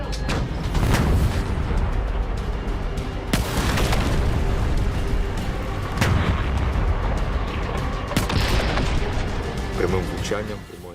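A Leopard tank's cannon firing armor-piercing rounds in combat near Avdiivka, heavy booming blasts over continuous rumbling battlefield noise, with talk running alongside.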